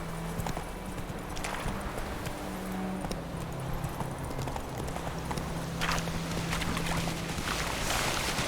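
Roach the horse from The Witcher 3 gallops steadily at close range, a continuous rhythmic clip-clop of hooves running for several seconds with a low hum beneath, no talking.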